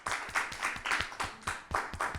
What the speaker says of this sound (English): Kings and queens, clap for yourselves.